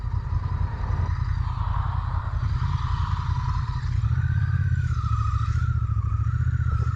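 An engine pulls away from a standstill in third gear, a loud, close, low rumbling drone that strains and then rises in pitch and strength as it gains speed, with no talking.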